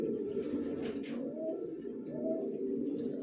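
Racing pigeons coo in a loft, low throaty calls swelling and falling in a repeated rhythm, fairly close and continuous over a soft background murmur.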